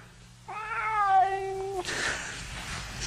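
A house cat gives one drawn-out, clear meow lasting over a second, close and alone, followed by soft rustling room noise.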